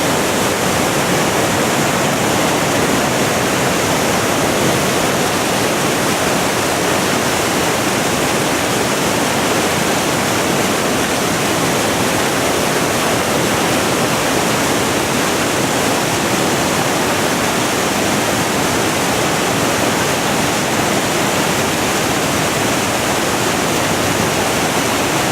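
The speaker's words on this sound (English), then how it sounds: "A wall of water, isn't it? Amazing." The Fuji River in Japan rushes past in a powerful, unbroken roar of churning water. The sound is loud and close, with a dense, even texture and no pauses.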